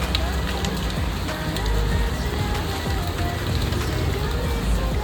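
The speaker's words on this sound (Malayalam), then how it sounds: "ചെറുതായിട്ട് മഴ പെയ്തുകൊണ്ടിരിക്കും." Light rain falling outside a window on a cold winter day, a steady soft patter and hiss that is continuous and moderately close, with faint talk mixed in.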